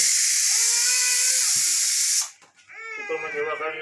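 Steam hisses loudly and steadily from a pressure cooker of whole eggplants on a village gas stove, then cuts off abruptly; a voice speaks afterward.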